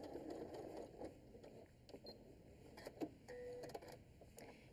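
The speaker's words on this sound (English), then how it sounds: "we're just gonna do a straight stitch, do a little back stitch so it doesn't come apart." Sewing machine running a straight stitch with a short back stitch while making a simple tote bag, a faint close-up whirring hum with small clicks and ticks, fairly quiet overall.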